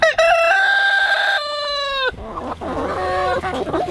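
Backyard chickens crow in long drawn-out calls, then break into busy overlapping clucking and squawks, loud and close, with no talking.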